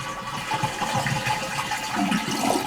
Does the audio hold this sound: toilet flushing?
yes